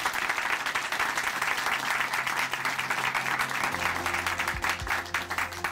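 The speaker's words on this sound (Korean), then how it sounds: "다시 한번 박수 보내드릴게요." Sustained audience applause from a church congregation after a testimony, steady dense clapping filling the whole stretch with a low hum and faint voices underneath near the end.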